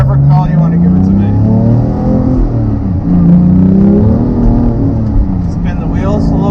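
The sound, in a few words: Porsche 911 GT3 manual spinning its wheels on damp road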